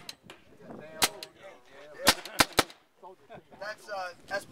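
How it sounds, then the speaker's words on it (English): Sharp gunshots fired at targets from an inaccurate smoothbore gun likened to a muzzle loader, several loud distinct cracks spaced irregularly, with a voice talking in between. "I'm going to shoot right out here at these targets"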